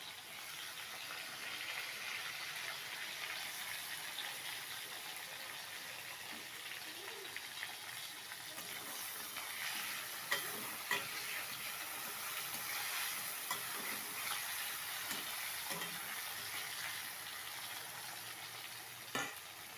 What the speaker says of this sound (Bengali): মশলাটা আমার মশলাটা একটু কষিয়ে নিই